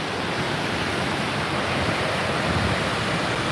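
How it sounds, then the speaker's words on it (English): Loud, steady rush of the Lehigh River pouring over a dam, a dense unbroken roar of water that fills the whole clip with no talk over it. "So this is the Lehigh River."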